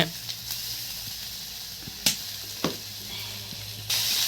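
Ginger, garlic and onion fry in a hot pan with a steady close sizzle and hiss, broken by a few sharp clicks and scrapes of stirring.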